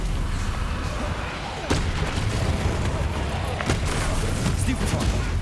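The Stupefy spell cast in the wizarding game Hogwarts Legacy: dense, crackling magical blasts with sharp impacts, steady and loud throughout, amid combat noise.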